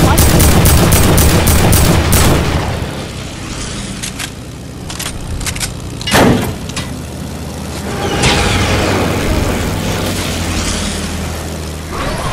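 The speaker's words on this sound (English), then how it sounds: "They took a shot at me." Gunfire aimed at the player in Fortnite, opening with a rapid burst of loud sharp shots, then scattered single cracks and a heavy bang amid game noise and engine-like rumble, without spoken words.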